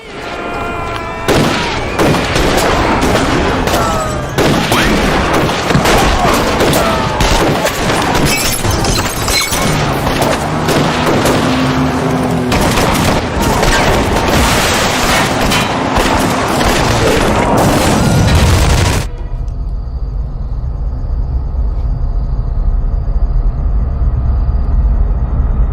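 Loud, dense gunfire and blasts from a film scene crash almost nonstop for about nineteen seconds, then cut abruptly to a quiet low rumble.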